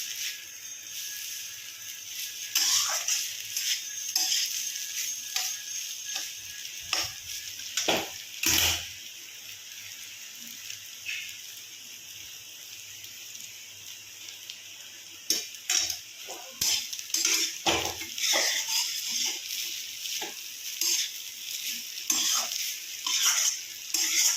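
A spoon stirs papaya halwa mixture in a pan as ingredients are added bit by bit, giving intermittent scraping and soft sizzling clatter in uneven bursts with short quiet pauses.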